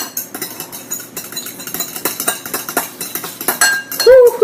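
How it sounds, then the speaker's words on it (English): A whisk beats melted butter in a bowl, fast rhythmic metallic clinks and scrapes up close, with a brief voice at the end. "Melted butter. Give it a little whisk together."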